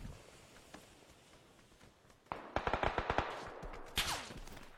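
Video game gunfire during a squad firefight: a rapid automatic burst of close, sharp shots at about two and a half seconds, a louder single blast near four seconds, then quieter crackle over a low background bed.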